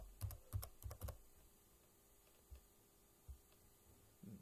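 Fingers type a short word on a computer keyboard in a few quick bursts of four clicks, then sparse single key taps follow. The clicks are close and distinct in a quiet room.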